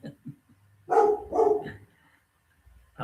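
A dog close by lets out two loud barks in quick succession, surrounded by quieter low grumbles and whines in an otherwise quiet room.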